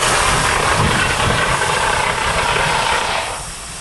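A fire extinguisher discharging with a loud, continuous broadband hiss that stays steady for several seconds, then eases slightly at the end, with no voices.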